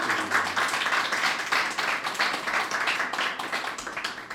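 Audience applause after a talk at a tabletop role-playing game master symposium, dense steady clapping from a small crowd, fairly close, lasting the whole stretch with no talk over it.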